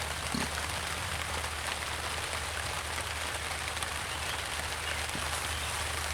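Steady rain falls on a tent, a constant dense patter heard from inside that holds at even volume with no talking.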